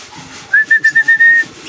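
A pigeon gives a run of six short, clear, whistle-like calls in quick succession while chasing hens, close and fairly loud over low background noise.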